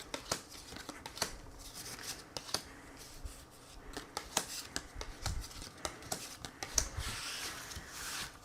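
An oracle card deck shuffled for a card reading gives quiet, rapid papery riffles and taps in an irregular run of soft clicks, close by, with no talk.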